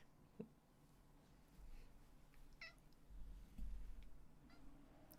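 A cat lets out a faint, brief meow or two somewhere in a quiet room, with low background noise around it.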